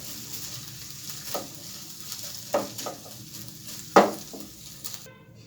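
Thin chicken slices frying in oil in a pan, a constant close sizzle broken by a few sharp scrapes and stirs of a utensil against the pan, ending abruptly.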